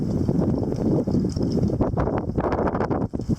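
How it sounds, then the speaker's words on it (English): Strong wind gusts buffet the microphone in loud, rumbling blasts that surge and ease over a few seconds. "Decent gusts coming in."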